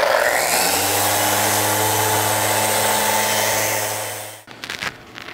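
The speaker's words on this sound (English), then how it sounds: "now I'm set up with 80 grit in my Rotex, and I'm just gonna get rid of the drum sander marks." A Rotex sander fitted with 80 grit paper works over wood to remove drum sander marks. It gives a steady, loud, close whir that winds down near the end, followed by a few brief knocks.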